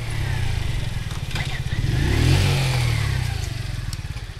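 A 50cc moped engine drones steadily while riding, its low buzzing note swelling and rising briefly mid-ride with wind rush over it, continuous and close throughout.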